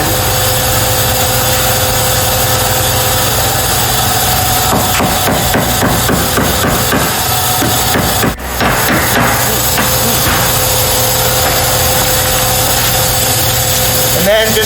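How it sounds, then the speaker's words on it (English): A hammer drives a pin into a Vertical Doors, Inc. door shock on a car, a quick run of sharp metallic taps over a steady idling engine drone, close and loud, with some talking. "So you take your pin and your hammer, and you might need a wrench."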